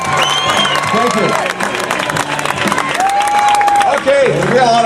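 A crowd cheers and applauds at the Pittsburgh Tax Day Tea Party, a steady loud wash of clapping and shouts, with someone talking over it through a loudspeaker.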